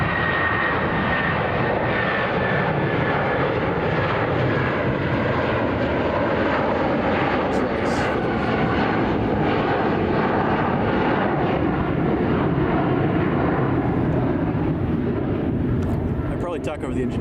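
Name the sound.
jet aircraft engines at O'Hare airport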